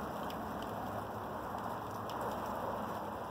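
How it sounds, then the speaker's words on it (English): Light rain falls steadily outside a back door under big old trees beside a deck, a soft continuous hiss with faint scattered drop ticks, fairly quiet and even throughout, with no talking. "it's raining a little bit right now"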